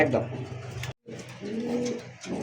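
White Indian Bombay pigeons, female and male, coo in low, throaty bursts close by, with a brief dropout in the middle and a voice talking over them.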